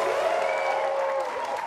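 Studio audience on a French-language talk show clapping to welcome a guest, a steady loud wash of applause with a tonal voice or music line running through it.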